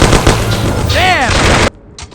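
Gunfire erupts in the 2002 PC game Mafia during a shootout, dense loud bursts of shots over shouting and game sounds before cutting off abruptly, followed by a quieter stretch with a few faint sounds.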